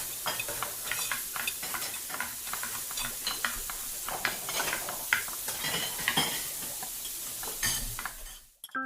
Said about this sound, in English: Now that we've heard some cocina or kitchen sounds